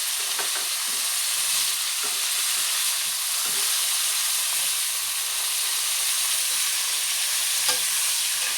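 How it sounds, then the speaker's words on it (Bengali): Eggplant pieces fry lightly in hot oil with a steady, dense sizzle and crackle that holds level throughout, close and fairly loud, with faint scraping of a utensil now and then. "এখন আমি বেগুনগুলো সবগুলো ভাজা করে নেব হালকা করে।"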